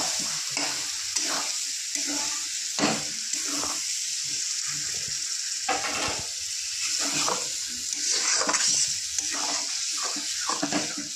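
Lote fish (Bombay duck) is stirred with fried potatoes and cumin in a pan over low heat. A soft continuous sizzle runs throughout, broken by repeated scraping strokes of a spatula against the pan, with no talking.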